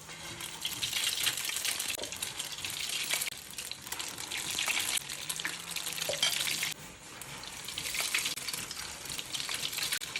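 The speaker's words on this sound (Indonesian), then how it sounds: "Untuk tahap selanjutnya ini kentangnya kita goreng." Egg-coated potato patties (perkedel) frying in hot oil, a continuous soft crackling sizzle with occasional bubbling and light stirring or rattling, steady and close.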